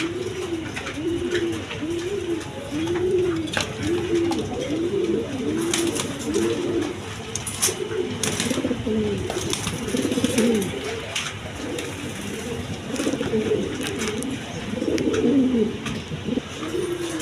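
A pair of Giribaz pigeons sitting on two eggs coo steadily up close, a run of rolling, repeated low calls with faint chirps and rustling around them.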